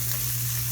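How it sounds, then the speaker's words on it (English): Sri Lankan-style spicy fish cutlet mixture sizzles steadily in a pan, a continuous close frying hiss with a low steady hum beneath, brief and uninterrupted. "This has been frying for about"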